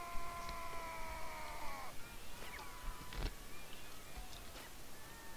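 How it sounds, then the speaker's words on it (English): A cat gives a drawn-out wavering meow and then a few fainter mews against a dense background of game noise during a Mount and Blade Warband siege event, with no talking over it. "The cats are real."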